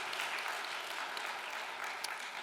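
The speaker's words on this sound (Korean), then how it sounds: "귀한 말씀을 주신 어머니께 우리 감사의 박수를 한번" Church congregation at a Sunday worship service claps in thanks, a soft, distant wash of applause from many hands continuing steadily throughout.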